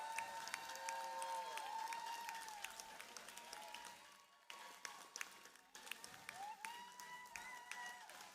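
Crowd at an indoor district event applauds steadily, a dense wash of many hands clapping with occasional cheers, dipping briefly midway then resuming at full strength.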